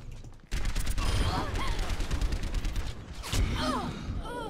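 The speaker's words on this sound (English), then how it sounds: "I'm being shot from the behind." Gunfire in the Overwatch video game on a new map, rapid shots bursting loudly and continuously over busy game effects, with someone talking throughout.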